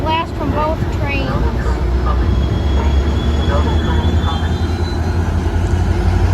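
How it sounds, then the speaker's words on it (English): Metra commuter trains meeting in Villa Park, loud continuous rumble and rolling wheel noise close by with squeal traces, brief horn-like tones early, over steady background; talk is heard. "Get a horn blast from both trains."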